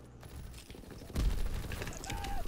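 Suppressing gunfire in a shooter video game, a dense rattling fusillade of shots that swells sharply louder halfway through and keeps pounding close and heavy.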